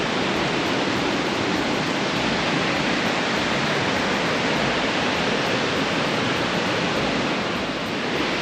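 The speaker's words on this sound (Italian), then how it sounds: "acqua esce anche dalle pareti laterali, c'è un afflusso incredibile" Heavy river water rushing under a bridge during a storm, water also pouring in from the side walls, a loud, steady broadband roar close by with no voices.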